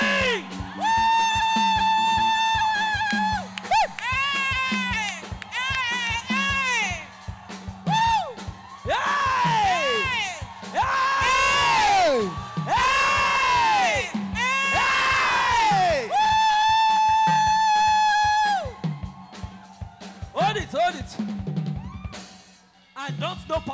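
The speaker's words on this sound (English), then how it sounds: "Somebody are gonna scream for your season of complete restoration. Somebody scream!" A church congregation at a Sunday service screams, whoops and cheers loudly and continuously, with a preacher's amplified shouts riding over the sustained crowd roar.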